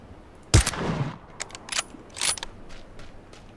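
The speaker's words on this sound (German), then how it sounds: "Da oben waren Schüsse." Gunfire in the battle royale game PUBG, a sharp nearby shot followed by several fainter, scattered distant cracks over a quiet background, with no talking.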